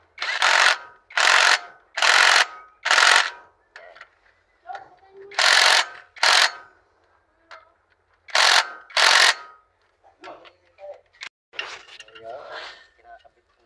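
Bolts on the clutch cover of a Mitsubishi L300 are tightened with a ratchet, giving repeated loud bursts of rapid clicking, each lasting about half a second, separated by brief pauses and lighter metallic taps.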